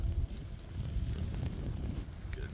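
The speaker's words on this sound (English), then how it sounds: "Good gust of wind there." Wind gust in a lake effect blizzard roars as buffeting low-pitched noise against the microphone, steady and moderately faint across the whole short stretch.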